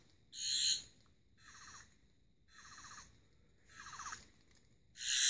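A Doctor Who 11th Doctor sonic screwdriver toy emits a series of short electronic chirping and trilling bursts, about five in a row with brief gaps, close and clear with no talking.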